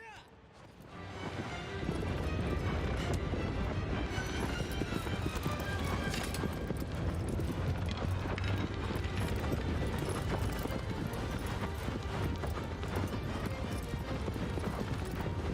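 Rapid, steady clip-clop of galloping horse hooves in Shadow of the Colossus runs loud and close throughout, with game music and effects layered beneath.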